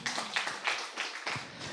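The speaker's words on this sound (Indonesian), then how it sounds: "Tepuk tangan buat Tuhan Yesus." A church congregation claps hands together during a sermon, a quick burst of sharp claps in an uneven rhythm, moderately near and fairly soft.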